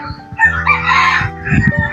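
Several farmyard fowl, apparently ducks, call out loudly and close by in a short burst of raspy, overlapping honks and clucks.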